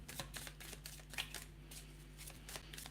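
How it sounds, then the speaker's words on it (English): Tarot cards being shuffled by hand make quiet, rapid riffling bursts of papery clicks in an irregular rhythm, close and soft, with no one talking. "All right, let's start shuffling."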